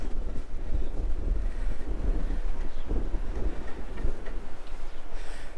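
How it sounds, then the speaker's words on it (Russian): Strong April wind in Oia, Santorini, buffets the microphone in a constant low roar, gusting and rumbling loudly without pause. "Но здесь безумный ветер в апреле."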